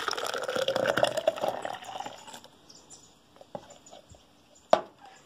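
About a litre of freshly squeezed orange juice is poured into a jug, giving a busy, splashing liquid rush for the first couple of seconds before it fades to faint drips and small knocks, with one sharp clink near the end.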